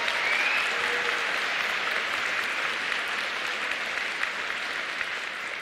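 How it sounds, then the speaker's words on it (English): A big crowd at the opening ceremony of the 2026 Stripe YSTE exhibition claps and cheers continuously, a dense, even wash of applause throughout. "Big cheer for the Stripe Redcoats and Bluecoats."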